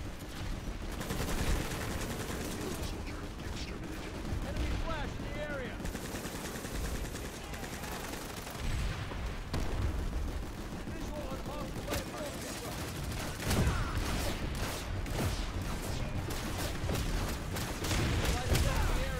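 Dense, continuous gunfire from the online shooter Planetside 2, with overlapping bursts and bangs at steady loudness throughout, mixed with game noise while players talk over it.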